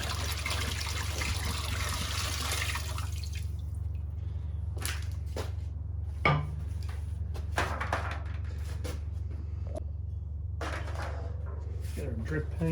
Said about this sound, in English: water coming down in here.